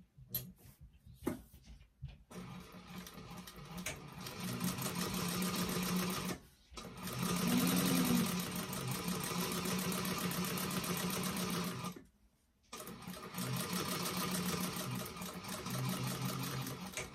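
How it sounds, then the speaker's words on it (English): A sewing machine runs a top stitch along a bag seam, tacking it down an eighth of an inch from the edge, humming steadily in long bursts with two brief pauses, close and without talk. "we're going to do a top stitch along here to tack that seam down with an eighth of an inch seam allowance"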